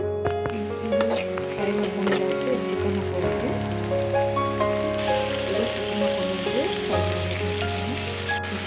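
Onions frying in oil in a kadai, a steady dense sizzle and crackle running throughout, close and fairly loud, with occasional stirring scrapes and low tonal background hum.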